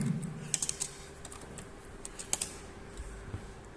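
Light keystrokes on a computer keyboard as a command is typed, a handful of quick, soft taps in small clusters over a faint hum, close and quiet.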